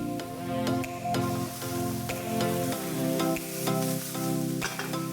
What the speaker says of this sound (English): Saute for about a minute.